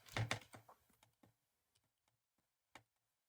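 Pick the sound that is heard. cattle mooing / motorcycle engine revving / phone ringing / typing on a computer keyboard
typing on a computer keyboard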